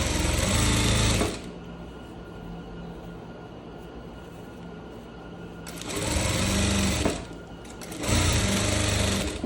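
A sewing machine backstitching the armhole of a striped shirt runs in loud, close bursts of rapid stitching, one long run, a pause, then two more short runs separated by a brief stop.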